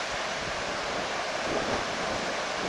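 Turbulent ocean water churning near shore with the tide, heard as a continuous broad roar of surf, with wind buffeting the microphone and no voices.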